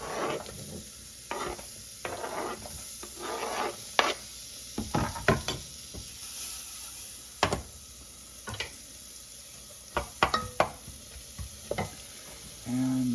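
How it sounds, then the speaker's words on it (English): Onions softening in a pan for creamy mushroom soup, giving a faint steady sizzle. Louder clattering stirs and knocks break through it at irregular intervals. "Start softening the onions."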